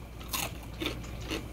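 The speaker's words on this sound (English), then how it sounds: "I want to show you how this cuerito sounds" Three crisp bites into crunchy cuerito pork skin on a Cuban sandwich, each a sharp, close crunch spaced evenly about half a second apart.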